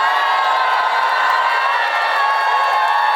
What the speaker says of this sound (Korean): 박수 많이 주시면 됩니다.